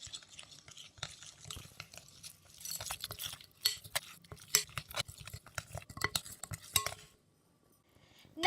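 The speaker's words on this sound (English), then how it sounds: "Give it a quick mix." Spoon stirring a Bengali fish fry marinade in a bowl, a run of quick close clinks and wet scraping strokes with an irregular rhythm, then falling quiet near the end.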